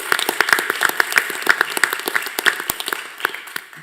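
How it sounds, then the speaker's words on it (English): Applause at a school district board meeting, a modest room of people clapping in uneven, distinct claps that thin out and fade toward the end. "Let's give them a round of applause"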